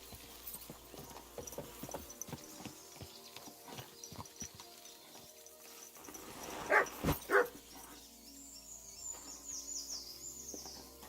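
A dog barks in Kingdom Come: Deliverance 2, a short burst of several loud, close barks standing out above the game's clip-clopping horse hooves, rustling ambience and faint birdsong.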